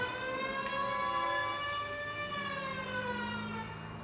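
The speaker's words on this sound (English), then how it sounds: "Okay, let's turn our siren off too." A police car siren in the video game L.A. Noire wails steadily and loudly, its tone sliding slowly up and down, then cuts to a lower hum near the end.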